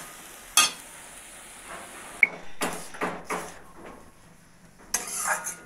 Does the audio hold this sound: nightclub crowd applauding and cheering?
no